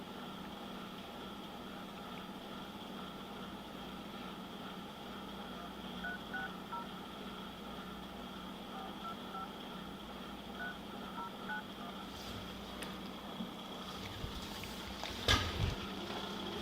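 Phone keypad dialing tones beep in a short series of separate presses inside a car stopped by a deputy during a DUI arrest, moderately loud over steady engine hum with a few sharper clicks near the end.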